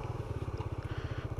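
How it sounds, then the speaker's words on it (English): A motorcycle engine idles steadily close by, its low exhaust pulsing in an even, rapid rhythm throughout with no voices over it. "I'm on a completely different bike."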